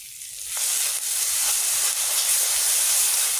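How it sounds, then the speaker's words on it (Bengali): Mustard paste frying in oil with fried onions, a loud steady broadband sizzle that swells in after the first half-second and holds evenly to the end, with no voices. "এবারে দিয়ে দিব সরষা বাটা। সরষা বাটাকে কিছুক্ষণ একটু কষাবো"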